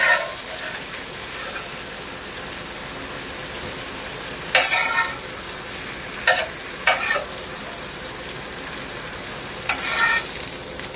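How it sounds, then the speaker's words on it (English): Donair meat slices browning over medium heat in a pan, a steady close sizzle punctuated by several louder bursts of spattering and shuffling as the slices are moved, with no talking. "We're going to brown each slice over medium heat until crispy."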